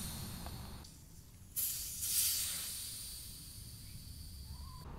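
Air hissing from the tyre valve of a 2022 Kawasaki KLR 650 motorcycle after the valve core is removed, a steady, fairly quiet rush that swells briefly midway and then tapers.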